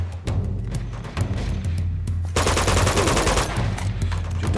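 Heavy machine gun fire in the video game Uncharted 2, a dense rapid burst of shots that intensifies into a sustained loud barrage over a low steady rumble, with no talking.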